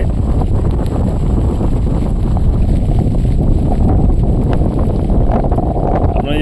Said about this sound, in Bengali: প্রচণ্ড হাওয়া দিচ্ছে সঙ্গে জল পড়ছে